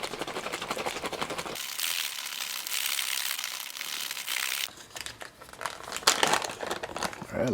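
A plastic pouch of MRE yogurt drink mix with water inside is shaken, giving continuous close crinkling and rustling that changes texture midway and grows busier toward the end.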